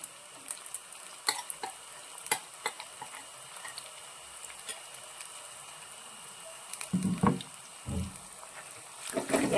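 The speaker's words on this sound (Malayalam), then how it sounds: "അരപ്പിട്ട് നമ്മളിത് നന്നായിട്ട് ഒന്നും കൂടി ഒന്ന് മൂപ്പിക്കണം എണ്ണയിൽ കിടന്നിത് ഇങ്ങനെ മൂത്ത് വരുമ്പോഴാണ് കറിക്ക് ടേസ്റ്റ് ഉണ്ടാവുന്നത്" Masala paste frying in oil in a pan while being stirred for a toddy-shop style curry of Ettakoori fish, with a soft steady sizzle, scattered scraping clicks, and louder stirring bursts near the end.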